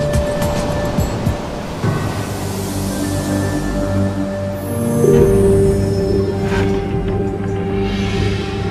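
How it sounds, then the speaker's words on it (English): Ocean surf breaking at a spot where friends are out riding the swell, heard as a steady, loud wash of rolling waves with a few louder crashes, no voices over it. "But Zach and his friends aren't the only ones riding the waves today."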